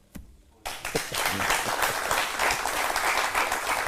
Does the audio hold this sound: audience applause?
yes